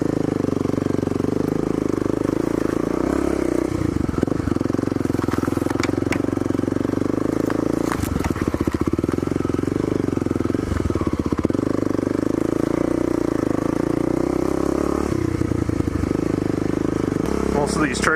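Dual-sport dirt bike riding along a rough trail built for four-wheelers, its engine droning steadily and close throughout with rhythmic revving surges and clatter, while a rider talks over the motor.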